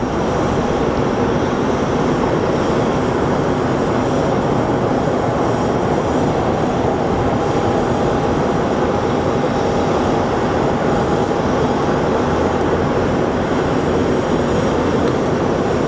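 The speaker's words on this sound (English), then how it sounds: "we're going to see a heavy 767 coming in for a landing" A heavy Boeing 767 jet comes in to land at Sky Harbor airport, a loud, steady roar of engine noise and rushing air filling the whole stretch without a break, with no voices over it.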